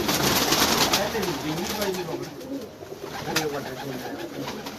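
Pigeons coo in low, rolling repeated calls close by, with a busy background of chatter and rustling noise throughout.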